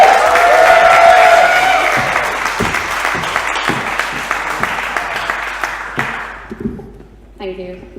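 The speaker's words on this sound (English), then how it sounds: "So, please, while you're applauding, keep it going" Audience applause and cheering at a spoken-word poetry night, a dense burst of clapping with some whoops that gradually thins and fades, before a voice starts speaking at the end.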